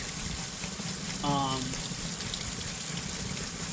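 Tumbled rocks from a vibratory tumbler being rinsed under running water, a steady close rush of flowing water with a faint rattling of stones, and a brief voice heard partway through.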